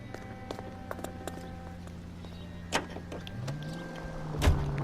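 In L.A. Noire, a car engine hums steadily, with a few mechanical clicks and a door thud, then the engine revs up near the end.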